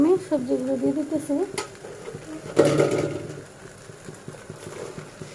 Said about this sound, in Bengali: এখানে আমি সবজিগুলো দিয়ে দিতেছি।